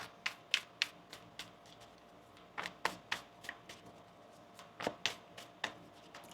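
A deck of tarot cards is shuffled by hand in irregular bursts, crisp close riffles and taps arriving in quick clusters with brief pauses between.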